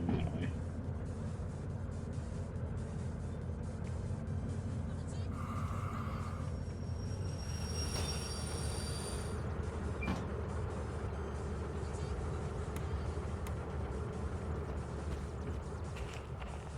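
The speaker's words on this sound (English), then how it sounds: "Let's see how much this locomotive wants to drag this." A locomotive in Derail Valley pulls a train with a deep, continuous engine rumble that holds steady throughout. A brief tonal squeal rises partway through, and a person talks over it.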